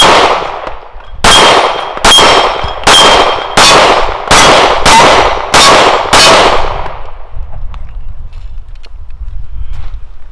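A S&W M&P Performance Center 9mm pistol fires eight sharp shots at a steady pace on an outdoor range, each followed by a bright ringing clang from steel targets that decays before the next, then a quiet tail.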